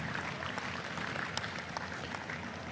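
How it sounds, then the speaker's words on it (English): Audience applause at a livestock show for breeding heifers in San Antonio, a steady dense clapping from a crowd filling the whole moment at moderate level. "Y'all need to give yourself a big round of applause."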